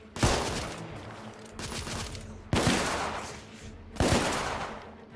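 Sniper rifle shots ring out in a gunfight in The Order: 1886, with three loud, sharp cracks spaced a second or two apart, each trailing into a long echoing rumble and debris noise.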